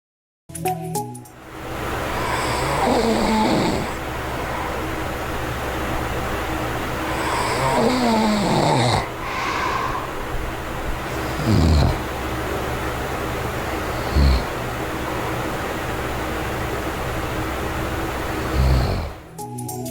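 A man snores while wearing a SleepTight stop-snoring mouthpiece; soft, breathy snore pulses recur every few seconds, faint beneath a steady background hiss.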